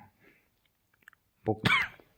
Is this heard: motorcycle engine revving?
no